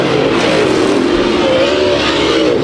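Late model race cars at Kings Speedway roar steadily through a dirt-track heat race, several engines droning loud and close with rising revs and no pause.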